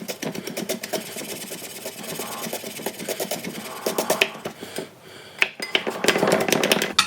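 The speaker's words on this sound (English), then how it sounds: "Chop it in small pieces." Rapid, irregular knife taps on a cutting board as peeled ginger is chopped into small pieces, a close, busy clatter of short strokes continuing throughout, bunching into quicker bursts near the end.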